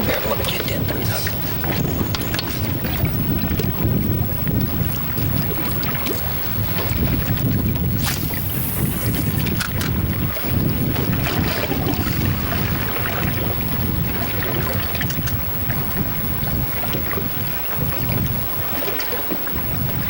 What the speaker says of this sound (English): Those waves are, you know, you got a little wind definitely picking up, Doug.